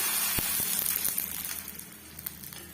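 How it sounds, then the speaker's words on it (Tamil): Rice flour vadagam frying in hot oil, a steady crackling sizzle with scattered sharp pops, close and moderately quiet. "போட்ட உடனே நல்லா வந்து பொரிஞ்சு வருது பாருங்க"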